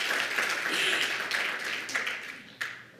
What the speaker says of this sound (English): You don't have to cheer that long for everyone.